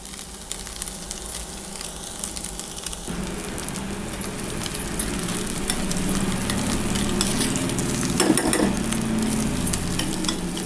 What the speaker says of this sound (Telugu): కొంచెం ఇది గోల్డెన్ బ్రౌన్ అయ్యే వరకు మనం ఫ్రై చేద్దామండి